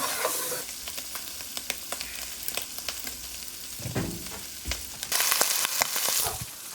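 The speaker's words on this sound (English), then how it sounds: "Okay, we've got our sausage browned up." Sausage browning in a pan, a loud close sizzle with frequent scraping clicks of a utensil stirring and loosening the meat, the frying swelling brighter near the end; no speech.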